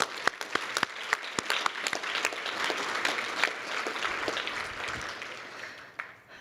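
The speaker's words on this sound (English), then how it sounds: "Join me in a round of applause for Molly." An audience at a college awards ceremony applauds, with individual sharp claps standing out at first before merging into sustained, even clapping that gradually thins out near the end.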